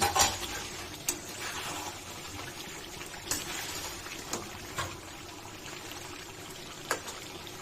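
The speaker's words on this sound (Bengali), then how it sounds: "হালকা নাড়াচাড়া দিয়ে নিচ্ছি।" Duck meat and potatoes being stirred in a curry: a steady sizzle of frying runs throughout, broken by occasional scraping strokes of a spoon against the pot.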